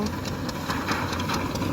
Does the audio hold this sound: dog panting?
no